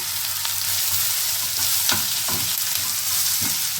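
Onions frying in a pan for paneer butter masala, a steady loud sizzle with faint stirring scrapes throughout, no talk.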